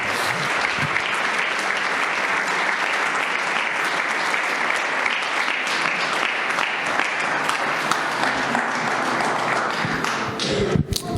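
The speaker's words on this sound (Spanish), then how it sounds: "¿Cuántos damos un aplauso al Eterno?" A church congregation bursts into loud, sustained applause, many hands clapping densely and evenly with scattered sharper claps and a few thuds, ending abruptly near the close.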